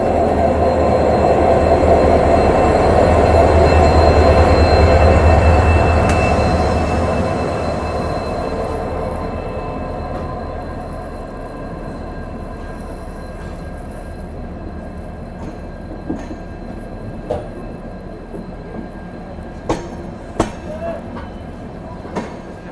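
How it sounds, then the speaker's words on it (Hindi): A train pulls out of a railway station onto the Jabalpur line with a loud, steady rumble that fades after several seconds, leaving a quieter platform with scattered clicks and knocks. "वहाँ एक ट्रेन निकल रही है, देखिए अभी जबलपुर वाली लाइन के लिए"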